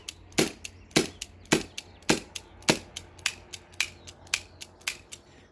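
A T4E TR50 CO2 pistol fires a string of about fifteen sharp, close cracking shots at an uneven, fairly quick pace, the later shots slightly weaker.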